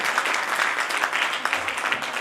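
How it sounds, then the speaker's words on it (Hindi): Hearty audience applause welcoming the stage at an annual poetry gathering, a dense, steady wash of clapping that stays loud and even from start to finish. "एक बार जोरदार तालियां इस सुंदर से मंच के लिए"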